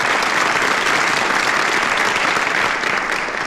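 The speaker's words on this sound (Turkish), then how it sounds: "Pelin'i alkışlıyoruz hep beraber." Film audience applauding a woman named Pelin in an old Turkish comedy, a loud, dense and even burst of clapping from many hands, close and continuous, tapering slightly at the end.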